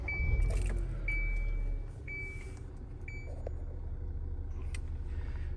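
A car engine for an air-conditioning performance test cranks with a loud, low rumble, then settles into a steady idle hum while a few short electronic beeps sound over it.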